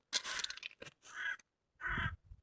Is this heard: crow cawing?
yes